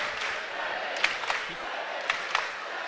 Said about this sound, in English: This crowd can't get enough